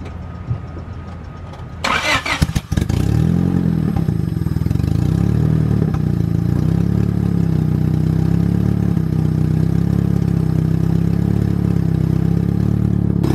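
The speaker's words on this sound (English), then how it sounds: "It's really loud right now because there's still no downpipe." A turbo Honda D16 engine in a Vitara build, running without a downpipe, cranks briefly and fires up, then settles into a loud, steady, close-up idle with a deep throaty drone.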